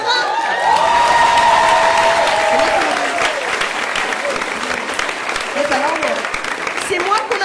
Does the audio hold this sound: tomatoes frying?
no